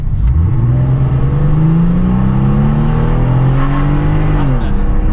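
A car engine revs hard under full-throttle acceleration in a manual-shift car, its pitch rising steadily for several seconds before easing off, loud and close from inside the cabin.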